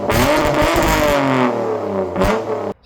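A Mitsubishi Eclipse with a 6G75 V6, before its timing belt and water pump job, revs loudly up close. The pitch climbs, settles, then surges again before cutting off abruptly.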